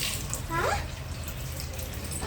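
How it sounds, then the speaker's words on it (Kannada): Water is poured in a continuous rushing splash close by, steady and moderately loud, with a brief brighter gurgle early on and faint background activity. "ಅಮ್ಮ ನೀರು ಹಾಕ್ತಿದ್ದಾರೆ."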